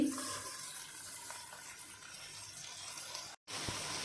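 Washed rice and lentils fry with whole garam masala in a pot for bhuna khichuri, a soft steady sizzle and hiss with faint stirring, quiet throughout and briefly cut near the end.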